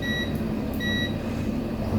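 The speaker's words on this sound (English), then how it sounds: "You can see it gives me a little beep when it connects." A continuity meter beeps as its probes connect, giving two short, thin electronic tones in quick succession over a steady low background hum.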